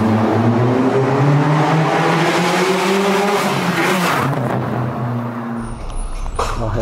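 A Renault Sandero's 1.6 16V K4M engine revs loudly through its exhaust, pitch sliding up and down in sweeping strokes before cutting to a rumbling idle.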